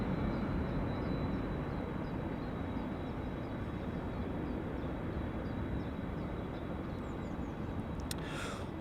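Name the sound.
KLM aircraft taxiing at Amsterdam Schiphol Airport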